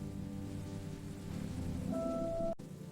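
Rain falls on a car during a family ride, a steady close patter on the surface with a low hum beneath and a brief tone near the end before a sudden cut, no talking.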